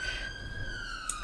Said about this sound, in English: what's that, an ambulance.